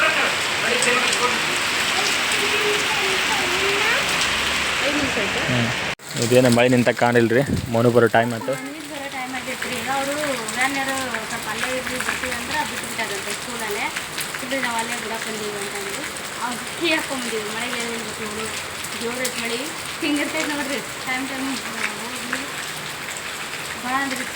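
Steady heavy rain hisses and patters throughout while a person talks over it, with a brief louder burst near the start.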